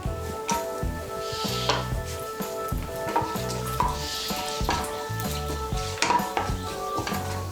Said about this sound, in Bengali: তেলটা গরম হয়ে গিয়েছে, এর মধ্যে আমি দিয়ে দিচ্ছি একটা তেজপাতা, দিয়ে দিচ্ছি গোটা গরম মশলা।